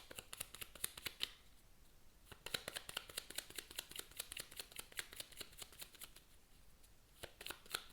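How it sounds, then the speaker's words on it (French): Oracle cards are shuffled and drawn by hand in quick bursts of crisp papery riffles and taps, pausing briefly near the start before a steady run of close, clear flicks resumes. "Je vais tirer une carte de l'oracle de Béline."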